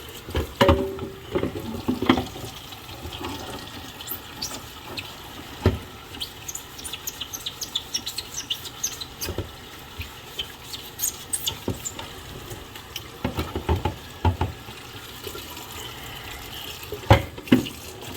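Piping hot water runs from a faucet into a sink during cleanup of a fire-damaged NES, a soft steady trickle broken by scattered clinks and knocks of handling.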